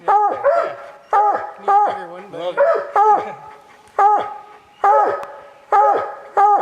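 Bear hunting dogs on a black bear hunt bark in a steady series of loud, close yelps and bays, roughly one burst every second, with a few whining notes between.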